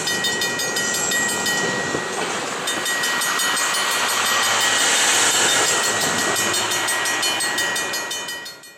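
An Iowa Southern shortline train pulls out of Moravia, Iowa, after a pickup. A loud, continuous rolling rumble carries steady hiss and a high squealing whine, then fades slightly at the end.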